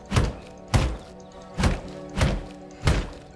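Five heavy, dull thuds land at an even pace as a tree is struck and destroyed in the video game V Rising, each blow booming low and clear with short gaps between.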